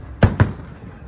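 Two sharp flashbang firework bursts go off close together, quick and punchy, with a brief rumble trailing after each.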